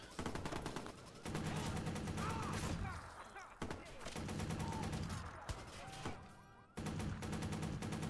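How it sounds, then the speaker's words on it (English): Repeated gunfire bursts in the Watch Dogs video game, loud, dense and rapid, broken by a few brief pauses across the stretch. "I'm gonna shoot him anyway"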